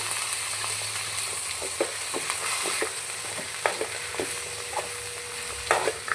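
Masala and grated coconut fry and get stirred in a hot pan for a goat head curry, a steady close sizzle broken by scattered spoon scrapes and clicks, with no voices.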